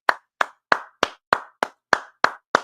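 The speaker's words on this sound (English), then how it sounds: "Go ahead, clap it up." Nine sharp, evenly spaced claps ring out in a steady rhythm, close and crisp with silence between them, as a gathered audience claps along on cue.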